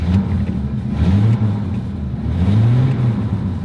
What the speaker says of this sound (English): And really, just listen to that engine.